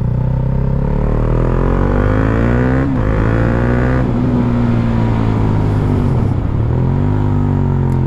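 A KTM 390 Duke motorcycle rides along at close range, its single engine note climbing through the gears with quick dips at each shift, loud and continuous.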